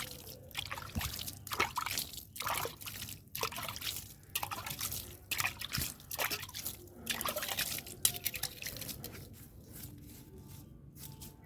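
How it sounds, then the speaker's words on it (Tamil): Water sprinkled by hand onto soil covering freshly sown fenugreek seeds, heard up close as a steady, uneven patter of drips and trickles lasting throughout, with no talking. "லைட்டாக மண்ணை லைட்டாக தள்ளி விட்டுட்டு தண்ணி விட்டு விடுவோம் தண்ணியை தெளிச்சு விடுங்க"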